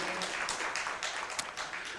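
Church congregation applauds during a Sunday worship service, a brief burst of many hands clapping together, moderately loud and continuous.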